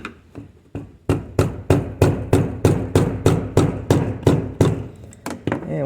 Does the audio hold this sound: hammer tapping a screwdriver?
yes